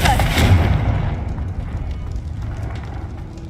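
A Confringo blasting spell is cast in Hogwarts Legacy: one loud booming blast that rumbles and fades away over a few seconds, heard alone.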